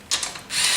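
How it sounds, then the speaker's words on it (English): An electric impact gun runs down bolts on a 4R70 transmission in a short, close, ratcheting burst that stops and starts again. "Lightly put it down with my electric gun, and then I'll torque it."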